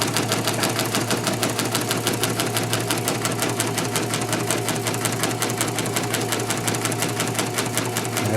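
A Singer Professional 5 sewing machine stitching fabric along the presser foot edge, a fast, even mechanical patter of needle strokes running steadily and close up throughout.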